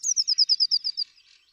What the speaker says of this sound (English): See, this is the blue tit, okay? So this is the sound of this one.